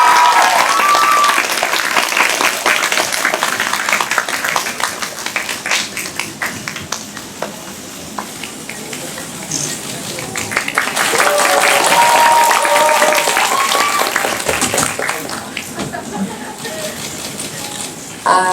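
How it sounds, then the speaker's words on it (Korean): Audience at a film talk event applauding to welcome the director and cast, loud continuous clapping filling the room, with cheers and a few voices rising through it. "큰 박수로"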